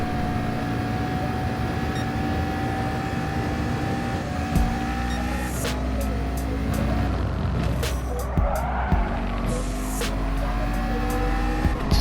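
Gr. 3 race car engine in Gran Turismo Sport on the Sardegna Road Track B, a sustained high-revving drone with sharp clicks and gear shifts partway through, loud and close.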